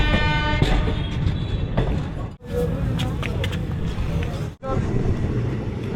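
A train pulls into Bandel station, its steady low rumble continuing with two brief dips, heard from on board with faint station and platform noise.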